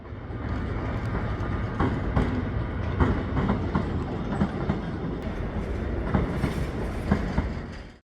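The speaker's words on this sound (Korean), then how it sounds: "서울역에 들어오는 다양한 열차도 구경하기 좋습니다" A train arriving at Seoul Station rumbles along steadily with clattering wheels and faint squeals, filling the whole stretch at a constant, fairly close level.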